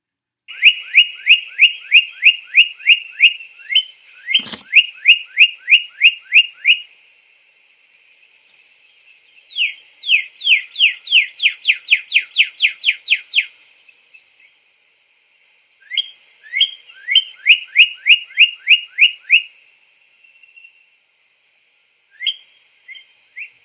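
A northern cardinal sings loud and close in repeated bursts of rapid, slurred whistled notes, pausing briefly between phrases, heard alone without voices.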